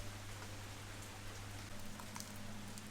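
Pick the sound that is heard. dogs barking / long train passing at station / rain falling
rain falling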